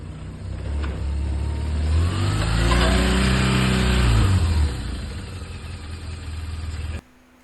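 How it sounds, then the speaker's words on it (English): A 170-horsepower motorbike engine runs close by, a low rumble that swells in a rev lasting a few seconds and then settles back before cutting off abruptly. "Take my 170 horsepower motorbike."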